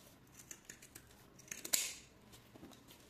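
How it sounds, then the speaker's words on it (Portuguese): Pinking shears cut through fabric around the rounded edges of a sewn clutch: soft, quiet snips in an uneven series, building to one sharper, louder crunching cut before trailing off. "eu vou cortar com a tesoura de picote"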